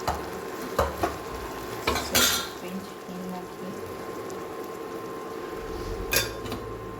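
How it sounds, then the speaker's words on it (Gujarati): A spoon stirs red chili powder and coriander-cumin powder into a tomato curry in a pan, with soft scraping and a few sharp clinks against the pan over a steady background hiss. "સરસ મિક્સ કરી લઈએ."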